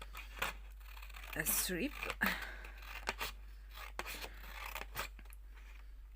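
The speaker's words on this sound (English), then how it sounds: "We will need to cut a long strip, and then you can cut" Scissors snip through a long paper strip in a few short, crisp cuts, close and fairly quiet, alternating with someone talking.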